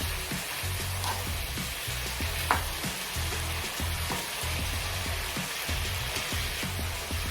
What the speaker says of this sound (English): We'll try to mix the onions and the tomatoes.